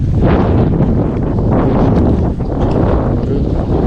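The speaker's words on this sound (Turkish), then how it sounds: "Fena rüzgar yeriz burada yalnız." Strong wind roars steadily into the microphone while fishing for horse mackerel, a loud continuous buffeting rumble with no voices.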